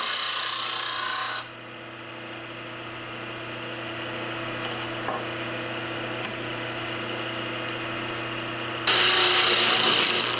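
A skew chisel cuts spinning wood on a lathe with a rasping, scraping hiss. The cut is heavier at the start and at the end, and the lathe hum carries steadily underneath.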